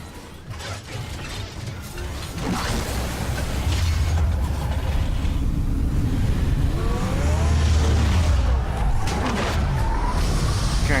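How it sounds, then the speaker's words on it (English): The Batmobile transforms in Batman: A Telltale Series, a loud close mechanical whirring and shifting with engine roar, rising clanks and sliding metallic sweeps that build steadily with no talk. "Transforming Batmobile."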